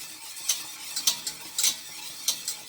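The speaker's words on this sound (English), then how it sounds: "I'm gonna whisk this up" A whisk beats cheese sauce for mac and cheese in a pan on medium heat, making a quiet, rhythmic series of wet scraping strokes about every half second over a faint background.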